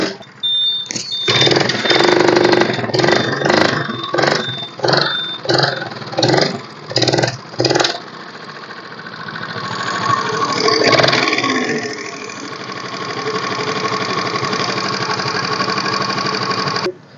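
Hero Honda Pleasure scooter from 2010 with self start, its small engine revving in a series of short, loud bursts, then settling into a steady, buzzy idle close by.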